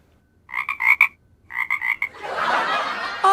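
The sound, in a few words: man imitating a frog croak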